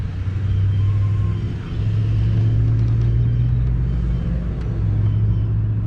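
A 1997 Ford F250 with a 7.3L Powerstroke diesel engine being cranked over, a loud steady low rumble and drone close by with little variation.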